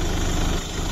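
A Jeep Compass 2.2 CRD diesel engine idles steadily, loud and close, with a dense, even clatter and a slight dip in level partway through.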